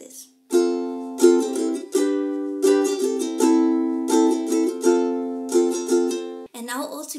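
Ukulele strumming a down-up chord pattern for a song, bright and close, in bursts of quick strokes with a few chord changes, with brief talking at the start and end.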